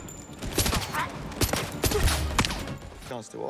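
Gunfire rattles through a gunfight in the 007 First Light video game, with sharp bursts of shots spaced through the moment against a busy game background.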